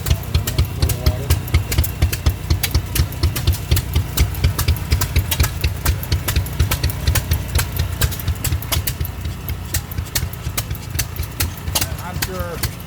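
An old stationary engine pumping water at a tractor and engine show chugs loudly and steadily with a rhythmic low-pitched thumping beat, clanking mechanically throughout.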